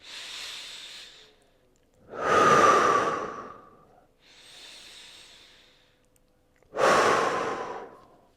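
Deep, slow breaths taken while holding a mobility stretch, loud and close: two long exhale-like rushes alternate with two softer breaths, with no talking.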